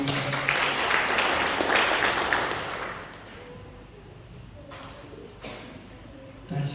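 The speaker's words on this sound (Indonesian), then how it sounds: "Berkat tepuk tangan dulu buat teman." A burst of applause from a church congregation fills the first few seconds, then fades into quieter room noise with a few scattered claps.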